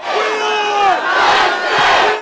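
A large crowd of students shouting and yelling in a street protest, loud sustained voices rising and falling in waves, near and massed.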